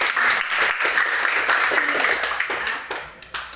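Classroom applause for a student at a junior high school Indonesian lesson, a dense burst of many hands clapping that carries on steadily for several seconds and thins out near the end, with a few voices mixed in.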